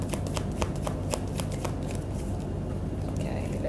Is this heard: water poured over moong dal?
no